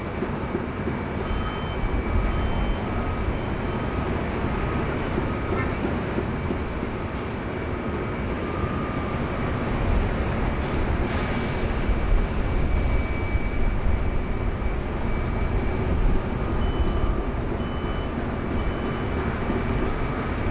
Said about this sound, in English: It's our next arrival there on runway 34 left.